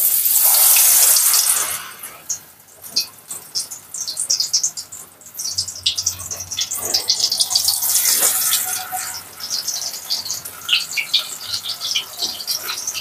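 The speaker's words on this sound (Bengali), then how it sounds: "তাহলে এবারে আমি এই মাশরুম ভাজতে শুরু করছি।" Mushrooms for pakora fry in oil over low to medium heat, producing a bright, continuous hissing sizzle with bursts of crackling that swell and fade, close and fairly loud.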